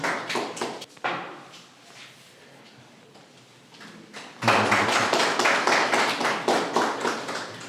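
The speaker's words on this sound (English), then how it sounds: "let's give him a big round of applause." Applause for the third-place student at a North Liberty Higher Secondary school ceremony: scattered claps at first, a quiet lull, then a louder, fuller burst of clapping near the end.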